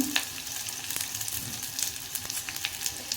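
Small finely chopped potato pieces fry in a pan with a soft, steady sizzle and occasional spatula taps and scrapes, fairly quiet and close, with no talking.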